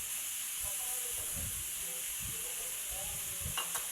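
Sitaw and talong are stirred in a hot pan for adobong sitaw, giving a steady sizzling hiss with soft scraping strokes at irregular intervals, close and continuous.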